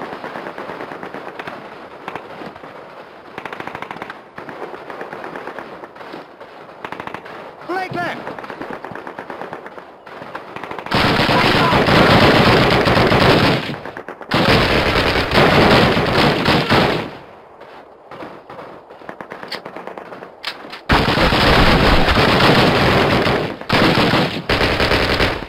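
Loud bursts of automatic gunfire in Call of Duty, arriving in long sustained volleys separated by quieter gaps that carry rumbling combat ambience and shouted voices.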